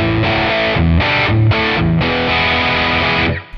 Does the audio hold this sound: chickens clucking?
no